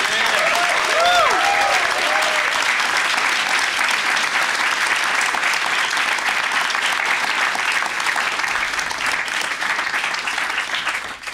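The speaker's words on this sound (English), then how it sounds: "Can I hear uh, one last round of applause for the panelists?" A live audience applauds the panelists at the end of a discussion event, loud sustained clapping from a large crowd lasting over ten seconds and fading slightly at the end.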